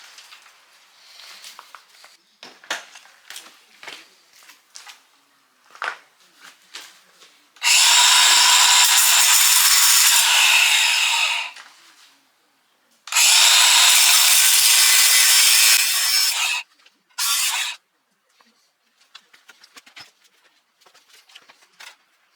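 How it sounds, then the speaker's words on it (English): An angle grinder fitted with a cut-off wheel cuts through stuck bolts on a boat trailer, two long loud bursts of harsh grinding and a shorter third one. Quiet clanks and handling noises fall between the cuts. "we're going to put a cut-off wheel in this grinder and go ahead and cut those off."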